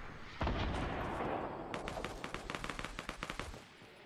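Distant gunfire in the Fortnite video game: a muffled boom, then rapid bursts of faint crackling shots rattling in quick succession, far off and alone.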